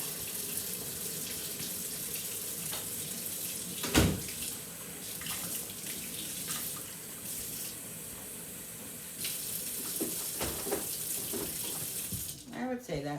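Warm water runs steadily from a kitchen tap for a bread dough, a continuous close hiss and splash lasting several seconds with brief clatters, then cutting off near the end.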